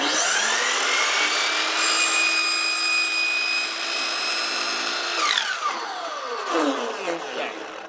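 A miter saw motor whines loudly at a steady high pitch for several seconds, then winds down with a falling tone, close by in a workshop with a wood stove nearby.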